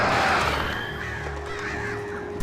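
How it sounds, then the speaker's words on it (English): Crows caw repeatedly in Alan Wake Remastered, harsh and fairly close, layered over a dense game ambience and low rumble. "Oh, I can hear some birds."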